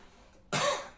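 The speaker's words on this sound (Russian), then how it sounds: "И пациент, клиент кашляет." A single sharp cough from a patient during a manual abdominal therapy session, loud and close, starting abruptly midway and trailing off, with quiet room tone before it.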